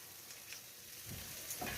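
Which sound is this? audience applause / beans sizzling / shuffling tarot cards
beans sizzling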